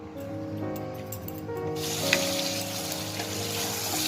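Meat slow-frying in a pan on a low flame gives a steady, hissing sizzle that rises partway through and then holds evenly, under soft background music.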